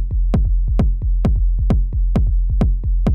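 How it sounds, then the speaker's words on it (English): A techno kick-and-rumble patch from an Elektron Syntakt loops as a steady four-on-the-floor pattern of punchy, booming kicks. Each kick has a rolling sub-bass rumble trailing off between the beats, loud and unaccompanied. "I have done my homework and I have prepared the kick and rumble sound already."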